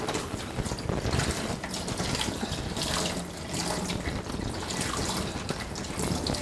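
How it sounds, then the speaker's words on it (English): A makeup blending sponge is rinsed under a running tap, producing a steady, close splashing stream of water into a sink with no voices. "Underneath running water."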